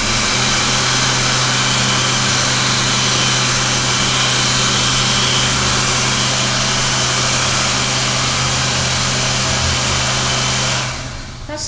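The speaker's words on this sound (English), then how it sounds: "Is that a Supreme BA101 motor?" Hand dryer driven by a Supreme BA101 motor, running at a loud, steady roar with a high whine and a low hum, then dropping off slightly as it winds down at the very end.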